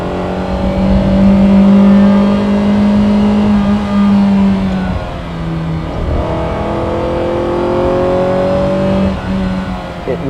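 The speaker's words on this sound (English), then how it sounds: "it's a very satisfying V8 engine note, a very small V8 engine note" A Ferrari Dino 208 GT4 with its small 2-liter V8 drives along, the engine note loud and close, rising and easing through gear changes with steady revving throughout.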